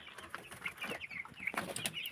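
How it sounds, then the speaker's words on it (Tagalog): Broiler chicks in a brooder cheep and cluck softly, a faint cluster of quick, overlapping peeps with no talking. "So kitaan nyo naman yung ating broiler chicks."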